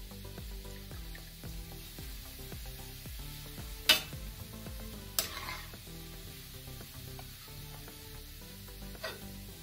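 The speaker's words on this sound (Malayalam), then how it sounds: "ഇപ്പോൾ ഏകദേശം ചെറിയ ഉള്ളി ഗോൾഡൻ ബ്രൗൺ ആയിട്ട് ഫ്രൈ ആയിട്ടുണ്ട്" Small shallots frying golden brown in oil for chicken perattu, a soft steady sizzle with a few scattered spatula clinks and scrapes, quiet and close.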